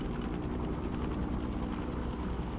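Helicopter in the real-time strategy game Broken Arrow, a steady loud rotor roar with a dense rumbling drone that holds evenly and unbroken throughout, with no voices over it.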